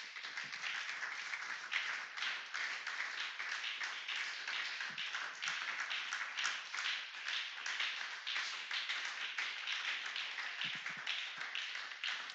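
A church congregation at a Sunday service claps steadily for the word of the Lord, dense continuous applause with a sharp patter that fills the room.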